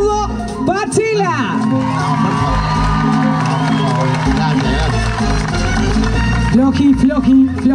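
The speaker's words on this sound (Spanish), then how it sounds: "Vamos a hacer el aplausómetro. ¡Aplausos!" An audience at a murga performance cheers and whoops loudly in a continuous crowd roar, with shouted voices rising above it near the start and end and someone speaking over the noise.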